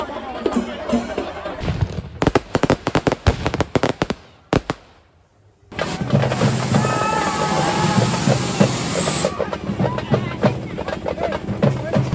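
Firecrackers burst at a crowded Amman temple festival in Aindhoor, first as rapid loud cracks, then after a short lull as a dense, continuous crackling barrage close by, with crowd noise underneath.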